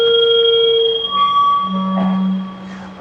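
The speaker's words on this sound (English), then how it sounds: "That sound you're hearing, Jones, is the sound of a radio signal being blocked somewhere up in that tree." An electronic radio signal being blocked somewhere up in a tree, heard as several overlapping steady tones that start and stop in turn with a fizzy crackle, lasting about three seconds.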